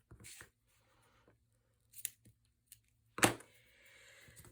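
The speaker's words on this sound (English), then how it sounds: "I'm going to trim these a little bit so they're not quite so long." Scissors snip through paper tags for a Christmas sled tag craft, a few crisp close cuts with a longer slicing stroke near the end, separated by quiet pauses.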